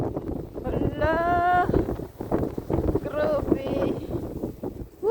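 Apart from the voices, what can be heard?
strong wind during a night snowstorm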